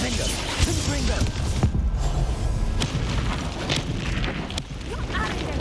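Explosive Confringo spell blasts in Hogwarts Legacy combat, a dense, loud roar of booms and crashing impacts running throughout, with bursts of game noise layered over a busy battle mix.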